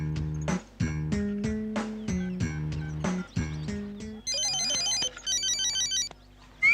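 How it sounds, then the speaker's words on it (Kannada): A mobile phone ringtone goes off during a comedy classroom scene, a loud, rhythmic melodic tone repeating in short bursts, followed by a higher chirping electronic jingle. "ಯಾರ್ದದು ಫೋನು?"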